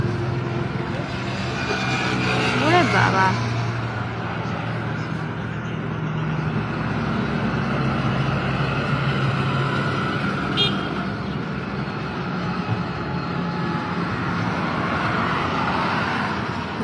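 Vehicles, cars, trucks and buses, keep driving past on the road in a continuous roar, with a horn toot near the start, and a voice speaks briefly over the traffic.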